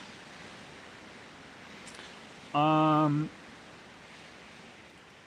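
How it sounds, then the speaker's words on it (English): Steady, broad wind noise rushes past the microphone throughout, with a brief hesitant vocal sound in the middle. "You can probably hear the wind whipping around me here."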